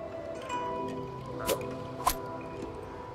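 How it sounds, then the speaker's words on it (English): Wet squishing and dripping as water is drained from a plant in the game Leisure Suit Larry: Wet Dreams Don't Dry, a few soft drips and two sharper squelches over a quiet musical bed. "That thing took all the water out of the plant."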